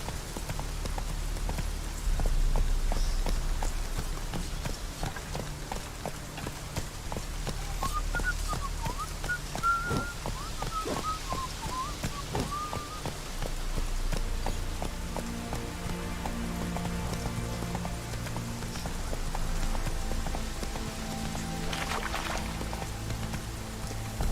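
Hooves of a horse ridden at pace in The Witcher 3 clop steadily through rain-like game ambience, with a brief melodic sound in the middle and a light musical bed late on.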